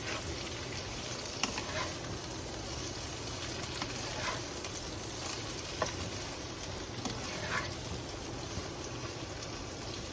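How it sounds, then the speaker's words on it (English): French beans frying in a pan with soy sauce while being stirred, giving a soft, continuous sizzle with occasional scraping stir strokes, fairly quiet and with no talking. "Stir it well."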